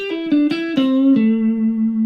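A guitar plays a short single-note line of about five plucked notes, each ringing clearly with a bright attack before sliding lower, and the last note sustains to the end. The guitar is heard alone and close.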